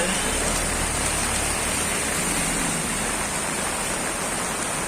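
Continuous loud rush of rainwater pouring and flowing along a road during heavy rain in Dhoraji, Rajkot district, a dense steady noise like heavy runoff over a hard surface.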